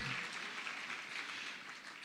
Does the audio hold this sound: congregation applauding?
yes